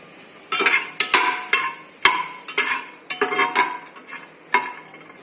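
Whole spices (green cardamom, black cardamom, star anise, cloves and cinnamon) being sautéed in a pressure-cooker pot for mutton biryani, heard as a series of close metallic clinks and scrapes of a spoon against the pot, with faint sizzling between strokes.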